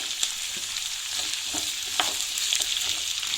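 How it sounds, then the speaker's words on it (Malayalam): Ginger garlic paste sizzling in hot oil, a dense steady hiss close by with a few faint scrapes of stirring scattered through. "പിന്നെ ഇഞ്ചി വെളുത്തുള്ളി പേസ്റ്റാണ് ഞാൻ ഇതിലേക്ക് ആഡ് ചെയ്ത് കൊടുക്കുന്നത്."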